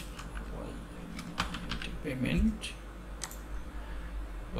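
Quick bursts of clicky typing on a computer keyboard, close and fairly light, with a few isolated key taps and a low voice speaking faintly underneath.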